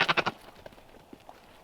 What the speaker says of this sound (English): He's a goat.